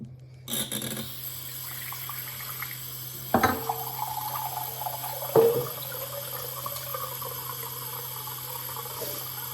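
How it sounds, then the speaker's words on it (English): Tap water runs steadily into a measuring cup nearby, a continuous pouring hiss with a couple of clunks as the flow is adjusted. "Filling the measuring cup up."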